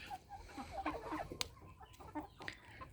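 Chinese silkie hens and roosters cluck in a close, busy run of short, overlapping calls, with a few sharper clucks standing out over a steady low background hum.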